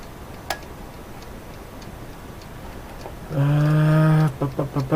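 A wind-up alarm clock ticks faintly in a steady, quiet rhythm, then a loud sustained tone cuts in for about a second, followed by a few short choppy bursts.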